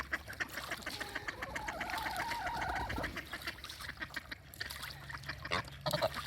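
Ducks quacking and geese honking beside clean water, a busy chorus of calls heard at moderate distance with splashing, fairly faint overall and without talk.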